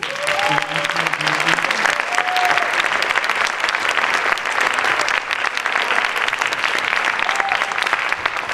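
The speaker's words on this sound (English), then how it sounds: "can we applaud these students?" An audience at a Martin Luther King Jr. commemoration event applauds students with loud, sustained, dense clapping throughout, a few faint voices rising briefly above it.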